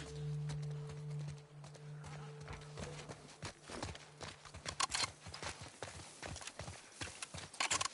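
Horse hooves clip-clop in an uneven rhythm in a modded video game, many hollow knocks over a low hum, fairly faint and close.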